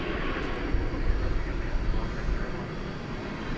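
An Alaska Airlines Boeing 737 MAX 9 jet at DFW airport roars as a broad, steady engine rush, moderately distant, with a faint voice over it.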